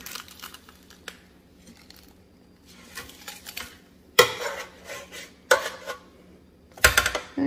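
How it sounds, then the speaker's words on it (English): Food is flipped over in an air fryer basket after cooking, giving a handful of scattered metallic scrapes and clatters with soft crinkling between them, close and fairly loud with quiet gaps. "I'm gonna flip it over carefully here."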